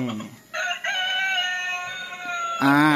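A Fighting Chicken transforming toy plays an electronic rooster crow, a loud synthetic cock-a-doodle-doo that rises and holds, with a short burst of another crow at the end.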